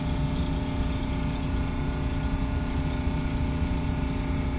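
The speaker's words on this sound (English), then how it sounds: "Compressor is on." Compressor of a Mammoth HVAC unit running, a steady loud mechanical hum and drone with a constant pitch throughout.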